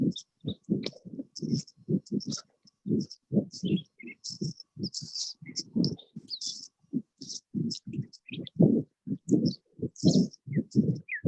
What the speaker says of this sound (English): Is that birds that somebody has in their background?